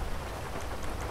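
Steady rain pours down in the GTA 5 open-world city of Los Santos, a continuous close wash of drops with no talking over it.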